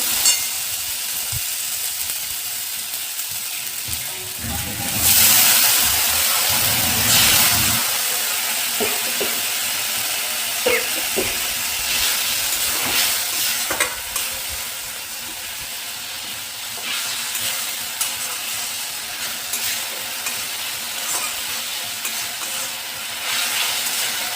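A splash of water hits ginger spice paste frying in a pan for fish curry, releasing a loud hissing burst of steam that fades back into a steady close sizzle with occasional stirring scrapes; no one talks.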